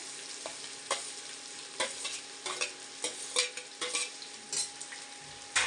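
Cauliflower and carrot are stirred into sizzling vegetables for a veg biryani, with a spoon scraping and clacking against the pan in repeated close strokes over a constant frying hiss.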